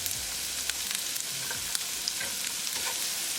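Chopped onions sizzle in hot oil with garlic, ginger and green chili while being stirred for pav bhaji. The steady frying hiss is broken by light scraping stir strokes, close and moderately loud, with no voices.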